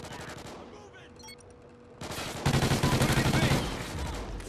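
Video game gunfire in a competitive team shooter match, first a few scattered shots and then a loud rapid automatic burst, with voices faintly underneath.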